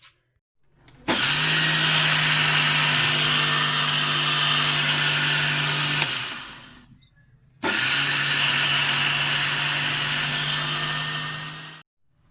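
A grinder whirs loudly grinding flax seeds in two bursts of about five seconds each, separated by a short pause, with a steady high-pitched motor whine and a gritty rattle.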